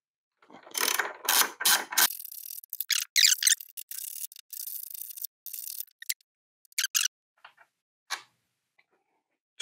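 Ratchet wrench turning out 12 mm bolts on a Triumph Tiger 900GT motorcycle, making rapid close clicking bursts that thin out into a few isolated clicks and quiet spells.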